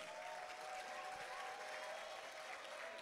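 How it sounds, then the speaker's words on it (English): An audience welcomes a professor onto the stage with sustained, dense applause, a steady wash of many hands clapping at an even level from start to finish. "with a resounding round of applause, shall we welcome on stage Professor Akoa to join us"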